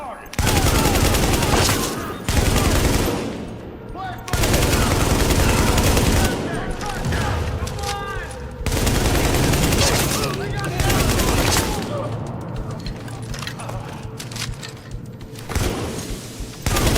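Bursts of automatic gunfire and explosions fill the Tom Clancy's The Division video game on PS5, loud dense fusillades that keep breaking off and starting again, with shouted voices in between.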